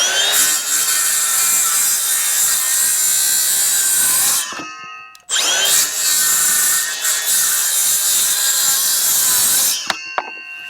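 A Makita 18-volt cordless power saw cuts through wood in two long, steady, loud passes with a brief pause between them. The motor whine and cutting rasp carry on unbroken and close, with no talking.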